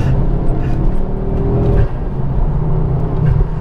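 A Ford Focus RS Mk2 being driven, its engine giving a steady, loud, low drone with a brief dip partway through, then settling back into the same even hum. No speech.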